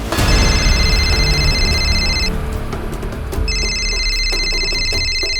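A telephone bell rings loudly in two bursts separated by a short pause, over a busy background of music and noise in a Crime Patrol TV crime show episode.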